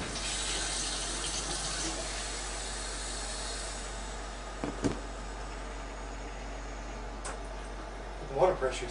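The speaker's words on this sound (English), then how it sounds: "Water pressure's quitting." Water runs from a house tap in a steady hiss as the household water pressure fails. The flow continues at a low level, with a few faint clicks and knocks near the end.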